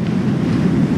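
Ocean waves wash against the shore in a low, rumbling roar close to the microphone, mixed with wind buffeting, continuous for the brief moment heard.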